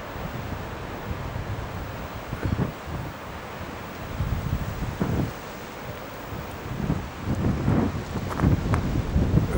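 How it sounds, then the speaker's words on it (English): Strong wind roars steadily across the microphone at a football match, with rumbling gusts that swell and buffet louder toward the end. "it's a very windy day today"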